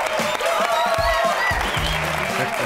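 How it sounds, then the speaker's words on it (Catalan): A television studio audience claps steadily in a dense, close round of applause on a Catalan TV show, with brief low voices murmuring underneath. "Un aplaudiment per en Magí."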